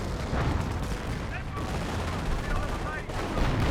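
A Geschützwagen and artillery firing in the Company of Heroes battle game: continuous heavy rumbling barrage with overlapping booms and blasts, loud and dense throughout, with a voice talking underneath.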